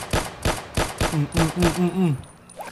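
Five sharp gunshots ring out at a steady half-second pace in a shooting video game, followed by a voice talking briefly and a faint click near the end.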